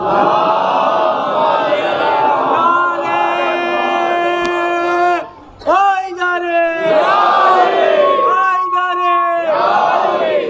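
A large crowd at an outdoor Muharram procession at a Kolkata mosque loudly chants salawat in unison, with sustained voices rising and falling in long swells across the whole stretch.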